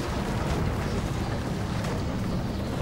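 Wind blowing in Assassin's Creed Unity, a steady loud rushing gust with no pauses, filling the whole moment alone.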